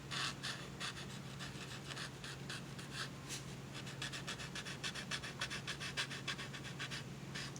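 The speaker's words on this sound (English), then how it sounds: "you can hear my paper stump scrubbing on that" Steady dry scrubbing of a paper tool rubbing back and forth on paper, close and continuous with quick rhythmic strokes, under a faint low hum.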